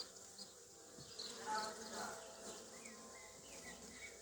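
Honeybees buzz faintly around an open hive frame during a ten-frame hive inspection, a soft continuous hum with individual bees passing near the microphone.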